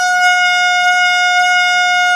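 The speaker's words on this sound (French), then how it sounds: "Tu sais, avec le temps, je vais finir par m'habituer à ce klaxon." A horn sound effect blares as one steady, loud, unbroken tone for over two seconds, alone with no speech.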